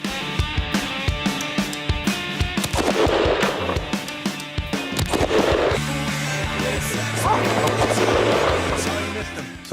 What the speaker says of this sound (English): we're gonna shoot them with machine guns